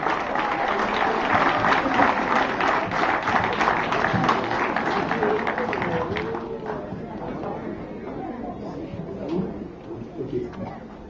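A crowd applauds the mayor of Le Carbet at a town associations' parade, steady clapping from many people that gradually thins out, with voices murmuring underneath.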